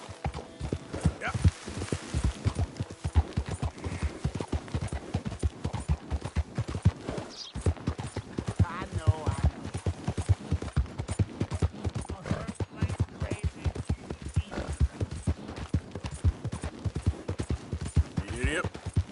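Horse galloping in Red Dead Redemption 2, a steady rapid drumming of hooves, loud and close throughout, with someone speaking over it.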